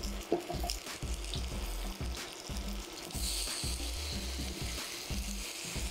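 Tomatoes and onion toasting in a pot for Mexican chicken tortilla soup, a soft sizzle with intermittent scraping and stirring knocks, faint and continuous, with no talk.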